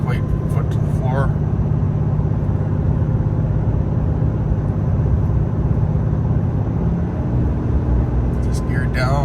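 A 2022 Ram 5500 truck with a high-output engine accelerates under heavy throttle, a loud, steady low-pitched drone from inside the cab, with someone talking briefly at the start and end.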